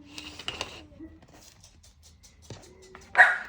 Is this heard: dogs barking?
yes